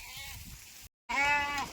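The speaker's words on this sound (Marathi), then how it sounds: "तर ह्या ठिकाणी पाण्याच्या तलावाजवळ मेंढी आली आहे बरं का" A sheep bleats loudly and close by at a pond on a farm in hot summer, one drawn-out quavering call following a brief pause, with a low murmur of other sound beforehand.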